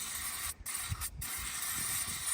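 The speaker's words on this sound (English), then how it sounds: "Expensive brake cleaner." Brake cleaner sprays onto the filter of a large fire engine, a close, loud, continuous hiss broken by two short pauses between bursts.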